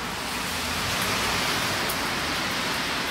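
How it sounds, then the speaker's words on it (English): Steady rain falling, a dense and continuous hiss that holds at an even level throughout, with no voices over it. "It has been raining since I got here."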